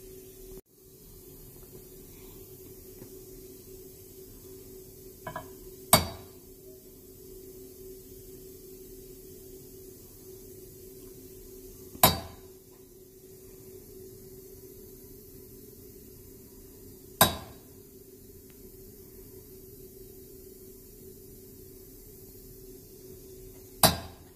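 Four sharp metallic hammer strikes on a rotary engine housing, spaced several seconds apart, ringing briefly against a quiet, steady hum.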